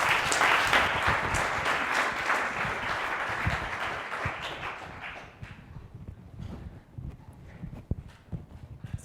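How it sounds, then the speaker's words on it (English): Lecture audience at a summer school applauding a keynote speaker, a broad wash of clapping that starts full and thins out over several seconds into scattered individual claps. "Let's have a round of applause for Kerstin Drechsler."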